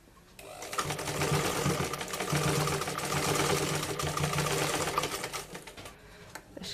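Sewing machine stitching a fabric tassel with dori piping, a steady close whirring run of about four seconds that starts after a short pause and slows to a stop, with no talk.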